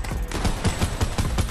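Rapid automatic gunfire in a video game, a loud dense stream of close shots with steady rhythm throughout.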